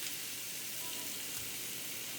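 Egg roll in a bowl filling browning in a pan, giving a soft, steady frying sizzle that stays faint and even throughout with no talking.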